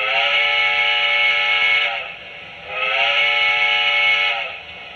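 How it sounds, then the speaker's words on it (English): A loud locomotive whistle blows twice, each blast a sustained harmonic chord lasting about two seconds with a short gap between. "And here's the whistle."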